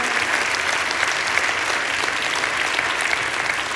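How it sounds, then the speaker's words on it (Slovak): Steady, dense applause from an audience at an arts award ceremony, honoring a young theatre artist; the clapping holds at an even level throughout with no talk over it. "Doznel potlesk pre mladého tvorcu"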